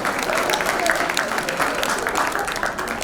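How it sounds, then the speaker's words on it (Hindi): Audience applause at a Diwali get-together celebration, a steady dense clapping from a crowd that holds at an even level for about three seconds without pause. "अगर जो आपको पसंद आया हो तो जोरदार तालियों के साथ इनका स्वागत कीजिए।"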